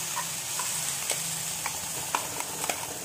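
Ground spinach hits a pan of fried masala and sizzles steadily, with scattered spoon stirs and small taps against the pan, close and continuous without talk.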